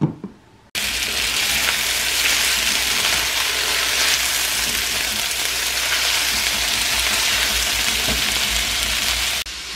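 Sliced cheddar jalapeno sausages fry in a skillet with oil and salt, a loud, dense, unbroken sizzle that starts abruptly after a brief quiet moment and keeps a constant hiss until near the end.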